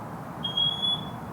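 A smoke alarm under test gives a single loud, piercing high-pitched electronic beep lasting about half a second over a quiet room hum.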